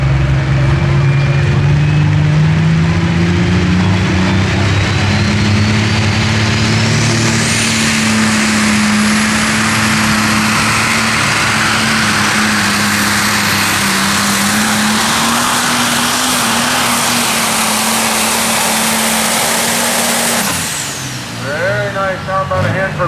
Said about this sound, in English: Rolling Thunder is definitely a tough tractor.